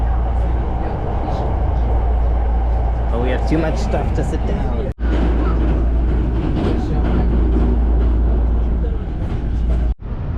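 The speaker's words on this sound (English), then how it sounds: "We're on the train now." Steady low rumble and rattle of a moving train carriage in Japan, travelling to Osaka, with people talking over the constant noise throughout.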